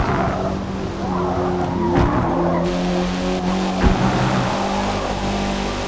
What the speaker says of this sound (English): Tyres squealing, we've got a 10 for that.